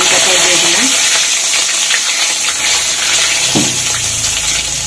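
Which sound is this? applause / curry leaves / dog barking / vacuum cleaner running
curry leaves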